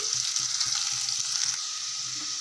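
Onions fry in a pan with a steady, bright sizzle throughout, while a spoon stirs them in regular soft scraping strokes underneath, close and fairly loud.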